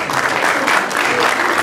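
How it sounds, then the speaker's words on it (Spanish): A school ceremony audience applauds an athletics runner-up from Colegio Chinchaysuyo, a loud, dense, steady burst of clapping with no break and no voice over it. "Fuerte el aplauso."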